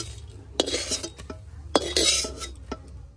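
Oil-free fried eggplant slices being lifted from a pan into a bowl, with several sharp metal-on-cookware clinks and scrapes over a low background hum, close and moderately loud.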